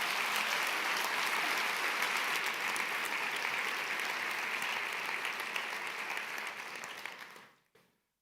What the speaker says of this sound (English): everyone in the room could give an extra loud round of applause for Tobias